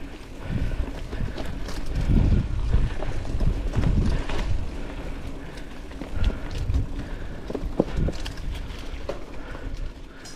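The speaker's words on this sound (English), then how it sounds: "That wind." Wind buffets the microphone in steady low rumbling gusts during a mountain bike ride at The Sawmill, with riders' voices and trail noise mixed in throughout.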